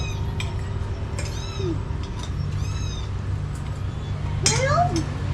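A pet cat meowing indoors in a Filipino home, several short rising meows spread through the clip with clinking dishes and faint household murmur behind.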